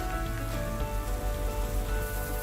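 Mint and cilantro sizzle in hot oil in a pan with tomatoes for Ambur-style boneless mutton biriyani, a loud, steady crackling hiss like rain that continues without a break, close and with no voices.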